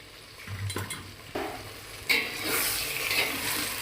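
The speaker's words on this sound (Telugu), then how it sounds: "జాగ్రత్తగా కలుపుకుందాం వంకాయలు బాగా వేగిపోయి మగ్గిపోయాయి కూడా" Fried brinjal pieces mixed with ground spice powder are stirred in a pan, giving scraping and clattering spoon strokes over a soft sizzle that grows louder and fuller toward the end.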